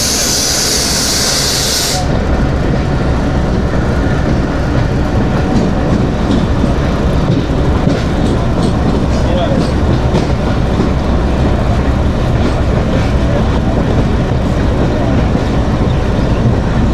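The Khushhal Khan Khattak Express running past the rail depot near Peshawar Cantonment, a loud continuous rumble with rhythmic clattering of wheels on track, preceded by a brief hiss, close and steady throughout.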